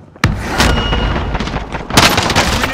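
A grenade launcher in an online shooter video game fires with a sudden loud boom, then a second heavy blast follows about two seconds later amid continuous rumbling combat noise, close and loud, with no talking.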